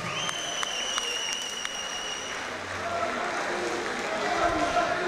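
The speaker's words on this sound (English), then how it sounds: "Big round of applause for my fighters!" Applause for the fighters after a close middleweight title bout at a Shinobi War 6 MMA event, a steady crowd clapping across the whole stretch with a brighter whistle-like tone near the start.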